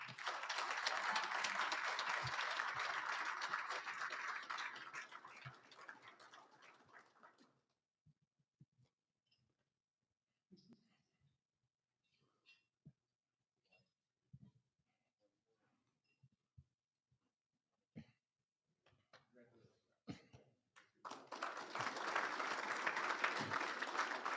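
Round of applause at a military awards ceremony, a few seconds of steady clapping that fades into near silence with scattered small knocks, then returns as a fresh burst of clapping at the end.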